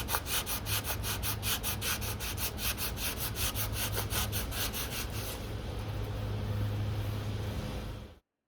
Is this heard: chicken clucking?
no